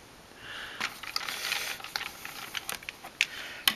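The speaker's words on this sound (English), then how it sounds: "Remove a bunch of screws." Screws being removed from the back of a Champion 600 amp, a series of faint close clicks and ratcheting turns with small metallic ticks, quiet and irregular.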